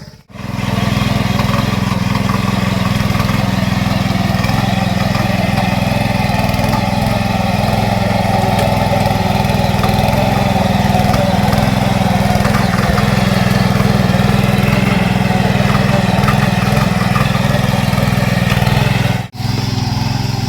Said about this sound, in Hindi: मैं दिखाती हूँ कैसे लगता है मशीन से हल।